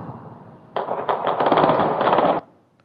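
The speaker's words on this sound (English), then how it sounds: "That is a full automatic gunfire event." A recorded burst of fully automatic gunfire plays back as a rapid string of sharp cracks lasting under two seconds, with no talk over it.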